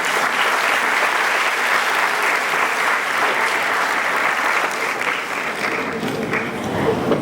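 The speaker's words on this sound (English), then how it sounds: "A round of applause for Ms." Loud, continuous applause from a graduation audience at St. Demetrios High School, many hands clapping steadily for several seconds before tapering slightly near the end.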